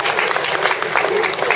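A roadside crowd in Vence gives cyclist Thomas Voeckler a loud, dense ovation of continuous clapping and cheering that holds steady throughout.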